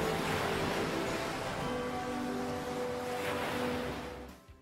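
Ocean waves wash steadily at sea during a crossing in a paper boat, a dense continuous rush of surf that fades out at the very end, with no voices.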